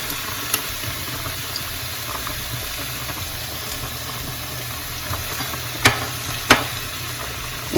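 Garlic fries in hot oil in a stainless steel pan with a steady soft sizzle, broken by a few sharp clicks of a utensil against the pan.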